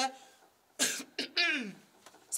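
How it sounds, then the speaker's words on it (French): A voice trails off, then a few short, harsh throat-clearing bursts follow close up, separated by brief pauses. "racler la gorge"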